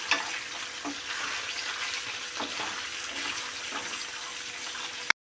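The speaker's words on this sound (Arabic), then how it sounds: "المهم دابا نقلي هاد السوسيط ونحيدو" Sausage frying in oil in a pan gives a steady, even hiss of sizzling that holds without a break until a sudden stop.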